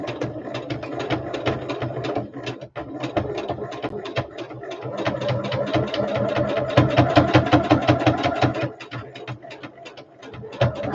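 A sewing machine runs a French seam along a small bag in quick, steady stitching bursts, close and fairly loud, pausing briefly before picking the rhythm back up.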